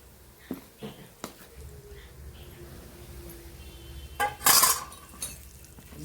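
A spoon mixes hot ghee into maida flour in a bowl for shankarpali dough, giving a few scattered clinks and scrapes against the bowl, one louder clatter near the end, over a quiet room.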